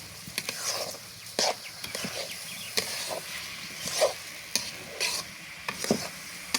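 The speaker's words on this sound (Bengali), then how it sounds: "চাউল দিয়ে আমি চাউলটা ভালো মতন কষাইয়া ভাজা ভাজা করে দিলাম।" Rice sizzles and is stirred in spiced oil for hilsa pulao, with repeated scraping strokes of a spatula against the pan breaking through a soft, steady frying hiss.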